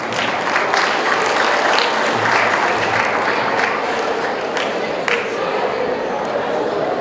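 Sustained, loud applause from a large audience at an anniversary event, a steady roar of many hands clapping without letup, with crowd noise blended in.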